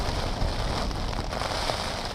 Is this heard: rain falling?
yes